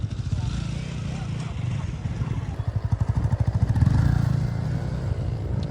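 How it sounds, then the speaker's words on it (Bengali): Motorcycle doing a wheelie during wheelie practice: a loud, close engine that drones, then sputters in a rapid rhythmic pulse, rises in a strong rev around the four-second mark and settles back to a steady roar. "এখন দুজনেই হুইলি মেরে দেখাবে এক্ষুনি।"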